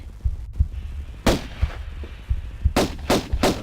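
Pistol fire in the Tomb Raider 1 expansion Unfinished Business, a handful of sharp in-game gunshots at irregular intervals over a low throbbing ambient loop, with a tight cluster of three shots near the end.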